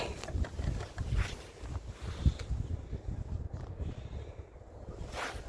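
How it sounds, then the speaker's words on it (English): Strong wind buffets a microphone outdoors during a frigid polar vortex cold snap, a continuous low rumbling roar with gusts rising and falling, close and fairly loud, with no voices. "The wind's pretty bad out here."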